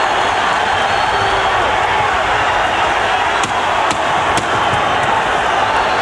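A boxing arena crowd on its feet during the Kevin Kelley vs Alejandro Gonzalez fight gives a dense, sustained roar, loud and unbroken, with a few sharp cracks cutting through near the end.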